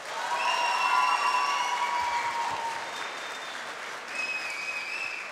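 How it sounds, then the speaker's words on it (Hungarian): A live audience at a drawing contest claps steadily for several seconds, moderately loud and sustained, with a few whistles or cheers ringing over the clapping. "És akkor most kérek egy tapsot"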